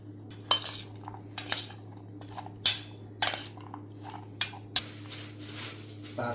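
Chopped vegetables being mixed in a bowl with a metal utensil, giving repeated sharp clinks and scrapes in an uneven rhythm over a low steady hum, close and clear.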